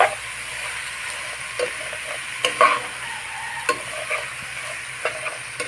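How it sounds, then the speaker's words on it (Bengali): Bottle gourd being stirred and fried in a pan for a gourd-and-taki-fish ghonto, with steady sizzling and repeated scraping stir strokes, close and continuous with no talk. "লাউগুলো দিয়ে আমি নেড়ে চেড়ে ভালোভাবে মিশিয়ে একটু সময় নিয়ে"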